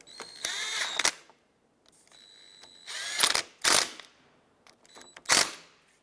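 A ratchet tightens bolts on a Toyota Highlander wiper motor and transmission, heard close up as three separate bursts of rapid clicking, each ending in a sharper snap, with short quiet gaps between them.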